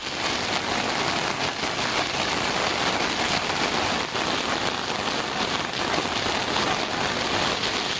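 A sudden downpour of rain in the Thiruthuraipoondi area of Tiruvarur district, a dense, steady hiss of drops striking surfaces that fills the whole stretch evenly without pause.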